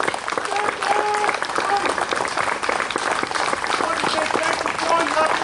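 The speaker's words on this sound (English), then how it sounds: "A round of applause, please, for all folks on parade" Crowd applause at an outdoor war memorial ceremony honours military, police, cadets, Navy League and veterans on parade. Loud sustained clapping runs throughout, with a few voices calling out over it.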